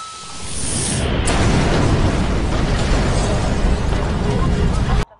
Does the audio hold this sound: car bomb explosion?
yes